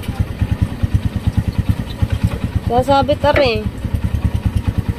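Motorcycle engines run close by with a loud, rapid, regular low-pitched pulsing that continues throughout while people talk briefly over it.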